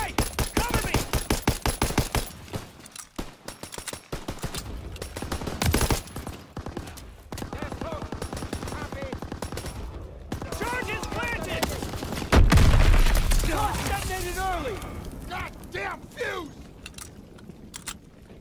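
Sustained gunfire in the Call of Duty: WWII video game, dense bursts of machine-gun and rifle shots crackling continuously, loud and close, with brief shouted voices and a sharp blast midway.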